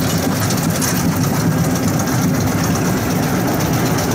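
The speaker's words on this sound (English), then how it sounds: "We're still on the lift hill." A roller coaster climbs the lift hill of Fantastic Coaster Rowdy at Hirakata Park in Japan, giving off a steady, loud mechanical rumble and drone that continues without a break, with no talking.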